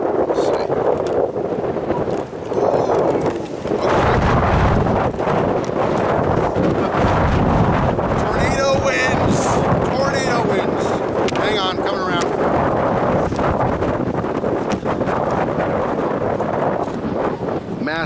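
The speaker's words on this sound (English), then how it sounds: "Massive friggin' wind." Heavy outdoor wind buffets the microphone in loud, constant rumbling gusts for the whole stretch, and a person talks intermittently underneath the roar.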